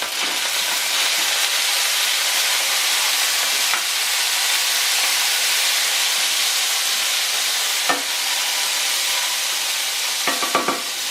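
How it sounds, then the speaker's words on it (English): Garlic sizzling in a hot pan, a steady bright frying hiss throughout with occasional clinks of a utensil stirring, close and loud with no talking. "I am going to add a little bit of garlic in a pan."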